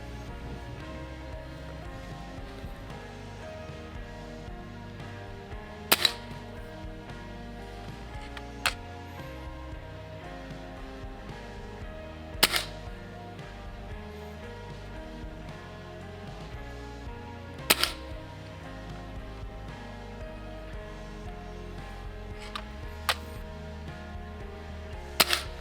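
Target shooting at 20 yards, with a handful of sharp, isolated cracks spaced several seconds apart over a steady low background hum.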